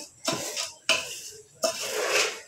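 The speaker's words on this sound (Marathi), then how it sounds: "आता यात तळलेले शेंगदाणे आणि खोबरं घातलेलं आहे. सर्व मिक्स करून घेत आहे" Fried peanuts and coconut are mixed in a pan for poha chivda, heard as three distinct bursts of scraping and clattering from a spoon against metal, close and fairly loud, with short pauses between.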